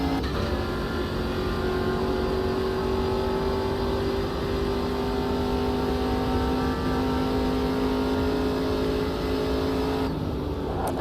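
A race car engine from a racing video game drones at steady high revs for about ten seconds with a sustained tonal whine, then cuts off abruptly near the end.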